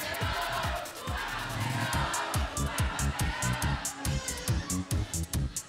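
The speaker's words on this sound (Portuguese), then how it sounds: "Torcida animada, sexta-feira de manhã." A lively school audience at a quiz competition final cheers and chants, starting as a steady roar and breaking into rhythmic, evenly spaced shouts or claps close by.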